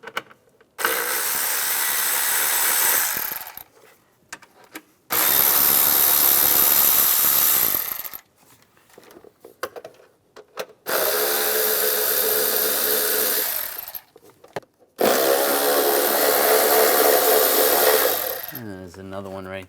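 A power tool driving a 5mm hex socket to loosen bolts on a 2004–2010 BMW X3 during intake manifold gasket work: four separate whirring bursts of a few seconds each, divided by short quiet gaps.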